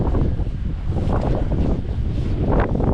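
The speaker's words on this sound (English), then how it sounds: "It's really windy out here." Strong wind roars and buffets the microphone in steady, heavy gusts outdoors, a loud low rumble with no other clear sounds.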